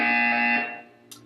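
Buzzer in the Portal 2 video game, a short loud tonal electronic blare that fades out, followed by a faint brief click.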